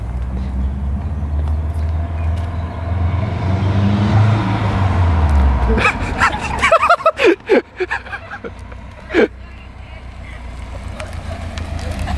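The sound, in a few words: Subaru WRX accelerating in a drag race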